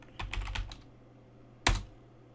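A computer keyboard clatters with a quick burst of several keystrokes while a MySQL command is typed, a pause, then one louder key press like Enter, close and clear with no talk.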